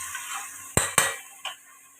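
A metal lid set onto a pan of egg curry gives two quick close clinks, then one softer knock as it settles, against a faint background hum.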